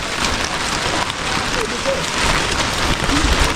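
Heavy rain falls on a slippery road through rice fields, a dense, loud, steady hiss that fills the whole moment with no breaks.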